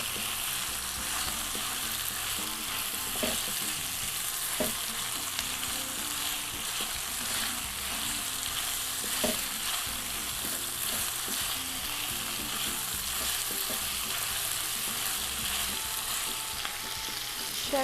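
Pasta and crushed garlic stirred in a hot frying pan for Cajun jambalaya pasta, a loud continuous sizzle with scattered scrapes and taps of the spoon, close up and without voices.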